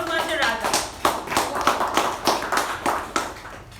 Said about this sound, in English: So let's give a huge round of applause for our general evaluator for the day, Toastmaster Raja.